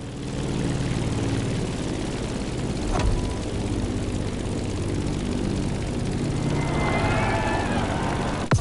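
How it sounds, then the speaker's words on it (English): Steady propeller and engine drone of an airplane descending to land near Honolulu in the racing game The Crew Motorfest, continuous and fairly loud with a faint voice at times. "Let's start our descent and get ready for the landing."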